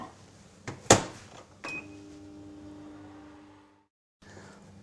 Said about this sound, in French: on va le faire fondre au micro-ondes, toujours à 500 watts, pendant 1 minute 30